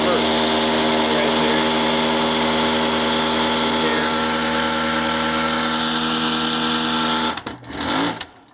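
A Keystone K-101Z automatic film projector runs steadily with a loud, even mechanical whir, motor hum and blower noise, then it abruptly changes mode near the end with clattering and a dip in level, close up and with no speech.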